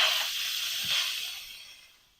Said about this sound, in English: You can hear that steam coming out of there.